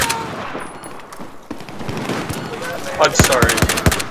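Rapid automatic gunfire in the video game Battlefield 4, Lost Islands map, with bursts growing louder and denser toward the end as someone talks over it.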